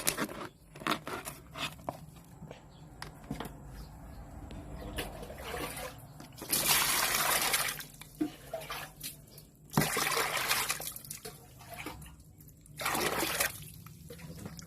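Tap water runs and splashes in intermittent gushes while sea bass is rinsed clean for a steamed lime fish dish, with quieter trickling and handling noises between the louder bursts.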